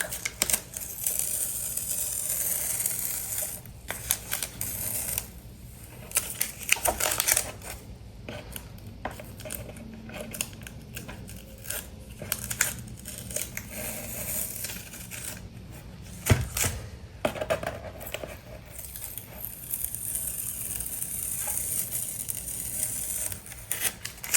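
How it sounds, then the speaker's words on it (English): Masking tape being peeled off a finished watercolor painting of hydrangeas on paper, giving a run of crackly tearing and ripping bursts with small taps and pauses, fairly close and alone. "let's remove this tape."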